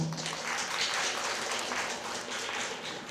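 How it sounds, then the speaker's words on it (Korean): Applause from an audience at a university leadership case competition, greeting a student team as they step up to present; steady, moderately loud clapping throughout with no voices. "박수로 맞아주시기 바랍니다"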